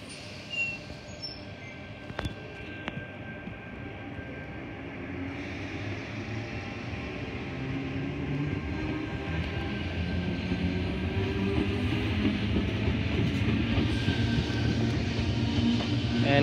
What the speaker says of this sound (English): Now this train is departing.